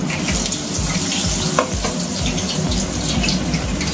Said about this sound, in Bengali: আমি এখানে মোটামুটি 6টা মতন স্টিক তেলেতে ডিপ ফ্রাই হতে দিয়েছি